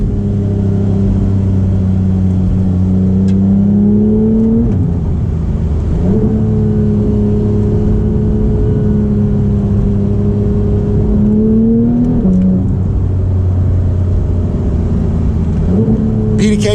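A Porsche 991 GT3's stock exhaust drones loudly and continuously, with engine revs rising and falling in several sweeps, close by, with no talk over it.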